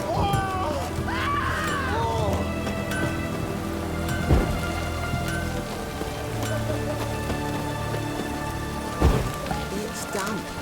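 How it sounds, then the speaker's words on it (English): Rain falls in The Witcher 3: Heart of Stone, a steady patter under sustained tonal game music and ambience, with a couple of sharp thuds in the mix. "It's raining, of course it's going to be damp."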